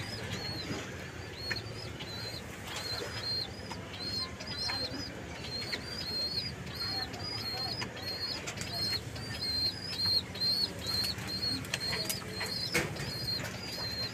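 Racing pigeons in a loft give soft, repeated cooing calls at a steady rhythm over a busy background of rustling and faint chirps.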